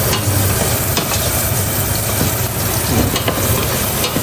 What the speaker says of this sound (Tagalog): gigisa na siya ng bawang sibuyas